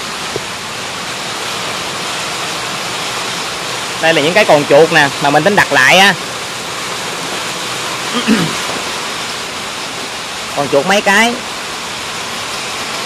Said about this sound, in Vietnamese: đúng là mưa bạn ơi, mưa lớn này